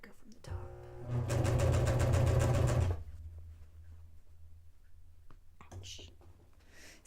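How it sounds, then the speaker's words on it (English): Sewing machine running steadily on the side seam of a pocket on a Grinch pajama costume, a loud close burst lasting about two seconds, then stopping into quiet room noise with faint handling. "There's one side sewn. Let me sew the other side."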